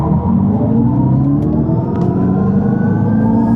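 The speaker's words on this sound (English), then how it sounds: "Okay, let's activate launch control again." An electric Dodge Charger accelerates hard under launch control, giving off a loud, steadily rising synthetic engine-like drone that climbs smoothly in pitch throughout and keeps going without a break.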